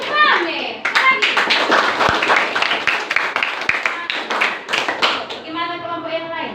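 Students clap their hands in a classroom, a fast dense patter of many claps running through the whole stretch, close and loud, with children's voices and chatter mixed in.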